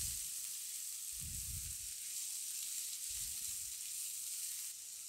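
Capsicum sizzles steadily in a hot pan while being stir-fried for a gravy, with a continuous frying hiss and a few soft, low stirring scrapes.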